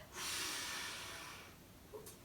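A deep breath drawn in during a beginner morning yoga routine, a single loud, close airy inhale lasting over a second and then fading, followed by a brief small exhale or sniff.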